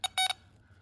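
A power probe sounds its continuity tone on a car cooling fan in an LT1-powered C3 Corvette, two short electronic beeps close together, the second held slightly longer, over a quiet background.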